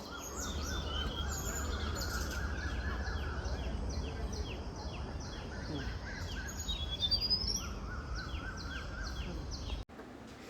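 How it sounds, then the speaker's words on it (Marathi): A dense chorus of birds chirps and trills beside a garden lake, with quick repeated high notes over a steady outdoor hum that continues throughout. "आत्ताच्या व्हिडिओमध्ये जसं तुम्ही ऐकलं तर तिथे खरंच खूप पक्ष्यांचे आवाज ऐकायला येतात"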